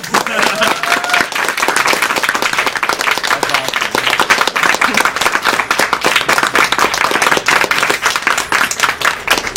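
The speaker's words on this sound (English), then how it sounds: "Are you prepared for a lot of clapping" Audience clapping fills a hall at the Awesome Games Done Quick charity speedrun marathon during a Portal 2 run, celebrating a donation milestone; dense, steady applause runs throughout while commentators talk over it.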